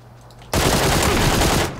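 Loud, close burst of automatic gunfire from the video game Battlegrounds, a rapid continuous volley starting abruptly and lasting over a second, with no voices.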